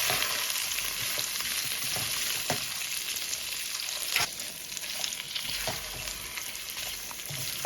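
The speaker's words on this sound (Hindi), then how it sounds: "प्याज को मैं गोश्त के साथ अच्छे से भून लूँगी।" Onions and softened mutton chops fry in a pan for a winter yakhni, giving a steady, close sizzle throughout with a few sharp crackles and stirring scrapes; no one talks.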